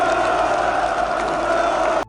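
A large gathered crowd of workers, bused in from across the capital and ordered to wave flags and applaud a speech, cheers and roars in a dense, steady wall of voices that holds for about two seconds and then cuts off abruptly.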